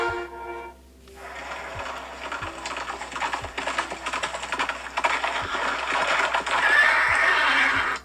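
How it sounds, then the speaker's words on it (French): A horse gallops across gravel as a game audio clue, its steady rhythmic hoofbeats and crunching filling the scene alongside a whinny, with a short musical tone at the start and a faint higher chime near the end. "on entend un cheval au galop aussi sur des graviers"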